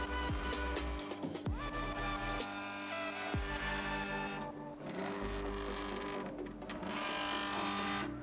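Embroidery machine tracing artwork on sherpa fabric, a close, steady mechanical whir and hum with shifting motor pitches and rapid needle chatter throughout, no talking.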